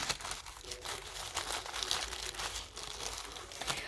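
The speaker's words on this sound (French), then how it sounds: "on va ouvrir son joli paquet qu'elle a fait avec du papier de soie" Tissue paper crinkles and rustles continuously as a package is unwrapped, soft papery crackling close by without pauses.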